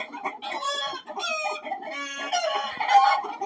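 Several chickens cluck and squawk up close in overlapping bursts, with roosters' crowing calls mixed in among the flock, in winter.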